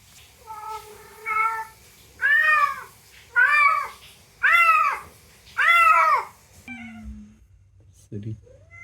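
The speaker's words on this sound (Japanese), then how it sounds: "それは腹減った泣きだな、グル" A former stray female cat in heat meows loudly and insistently at close range, giving five or six drawn-out cries in a regular rhythm, then a brief quieter sound at the end.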